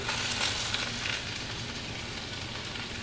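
Bass fillets sizzle steadily in melted butter in a pan, a dense, even crackle that stays loud and close throughout with no voices.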